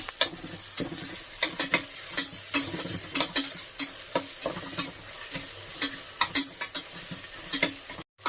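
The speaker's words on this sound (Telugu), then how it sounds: "అల్లం వెల్లుల్లిపాయ పేస్ట్ కొంచెం ఫ్రై అయిందండి" Ginger garlic paste frying in a pan with bay leaves for prawn biryani, a steady close sizzle broken by frequent sharp scrapes and clinks of a spoon stirring against the metal pan.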